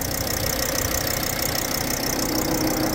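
A 2011 Volkswagen Crafter van's 2.5-litre diesel engine idles steadily and loudly up close, a constant low rumble with a faint knocking texture and no voices.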